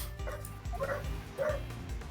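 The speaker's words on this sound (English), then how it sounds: "you've got a dog in the background" A dog yips and whimpers in short bursts somewhere in a room, three or four quick high-pitched barks spread over a couple of seconds, fairly faint against a low background hum.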